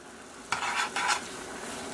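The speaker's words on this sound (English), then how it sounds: "So our spaghetti is cooking real good here." Spaghetti cooking in a pan is stirred in two quick scraping bursts over a soft, steady background sizzle.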